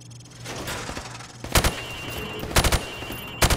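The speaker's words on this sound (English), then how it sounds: "Now, shoot at the targets while firing from the hip" A rifle fired from the hip at targets on a shooting range in a military video game: three sharp bursts of rapid shots, spaced about a second apart, over a steady low hum.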